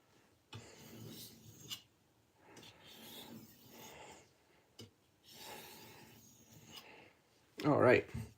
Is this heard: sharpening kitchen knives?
yes